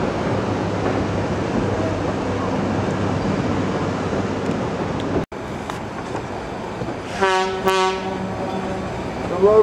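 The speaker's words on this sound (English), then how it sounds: "locomotive you're riding today is a 1947 Porter diesel electric 87 tonner" A 1947 Porter 87-ton diesel electric locomotive hauls boxcars on the Georgetown Loop Railroad, with steady rumbling rail noise throughout and a horn sounding in repeated blasts near the end.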